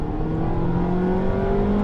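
A Mazda MX-5 ND2 with an aftermarket exhaust accelerates, its engine droning and rising steadily in pitch, loud and close, with no talk.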